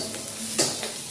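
Frozen peeled shrimp frying in a pan, giving a brief, steady sizzle with one small clink or stir near the middle.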